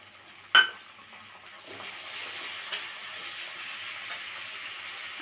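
Ground onion paste hits hot oil in a pan while a fish curry is cooked. There is a sharp splash-like burst at the start, then a soft, steady sizzle continues in the background.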